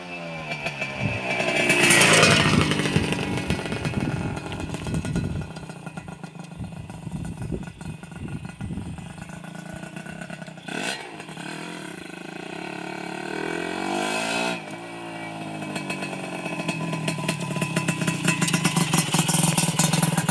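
Honda Dash 125 motorcycle engine running and being revved, a close, raspy two-stroke-like buzz that rises and falls through several throttle blips over about twenty seconds, with no talk.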